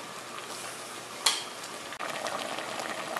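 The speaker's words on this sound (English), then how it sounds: "You can see it's boiling" A pot of Thai-style pork rib stew bubbles and simmers steadily with a soft sizzling hiss, one brief clink midway, no voices.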